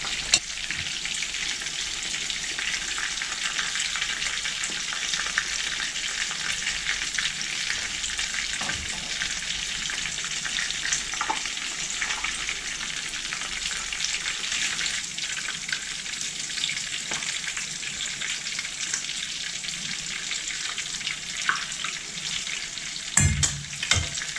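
Steady, close sizzling and crackling of homemade meat cutlets frying in a hot pan, with occasional light scrapes and pops.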